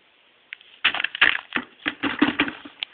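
Wet DIY aquarium live-rock slurry being crumpled and squeezed by hand, giving a run of close, crackly, gritty crunches in quick irregular bursts, with no talking.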